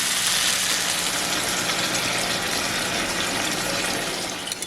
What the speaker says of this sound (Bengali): এইবার অল্প অল্প করে জল দেব।